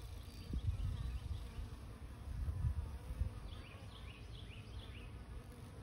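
Bees buzz faintly around a pollinator watering station, several insects droning on and off with soft, shifting whines over a quiet outdoor background.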